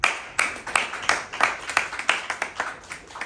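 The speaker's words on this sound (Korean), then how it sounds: "내가 니들한테 박수 한번 쳐줄게" A single teacher claps for students in a classroom, about a dozen sharp, distinct hand claps at a steady, unhurried rhythm, close and clear with no talk over them.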